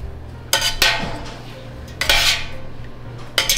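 A metal spoon scrapes and knocks against a cheese pot while curds for Colby cheese are stirred slowly and gently, giving three separate clanking strokes with quiet gaps between them, close and loud, with no voices.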